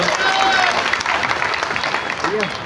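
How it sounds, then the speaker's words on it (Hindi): Applause from a crowd at a Congress party political rally in Gwalior, a steady wash of clapping across the whole moment with some voices mixed in. "जरा जोरदार तालियों से स्वागत करो।"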